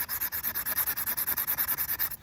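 A rock being sanded by hand with sandpaper, a close, steady back-and-forth rubbing of about eight strokes per second, with no talking.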